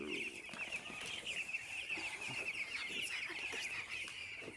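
Chickens on a poultry farm of about seven hundred birds cluck steadily and flap their wings, a dense flock murmur with repeated wingbeat bursts and scattered calls, close and continuous with no talk.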